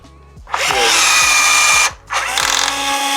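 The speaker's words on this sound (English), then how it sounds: "going to do these little rivets up" A power tool whirs loudly in two sustained bursts, about a second apart, while rivets are set to fix a carbon fibre bodykit onto an Audi R8 Gen 2.5, with a faint rhythmic clicking underneath.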